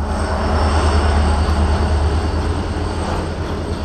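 A goods train of about twenty wagons rumbles past at a level-crossing gate, a loud, steady low roar and rattle filling the whole stretch without pause.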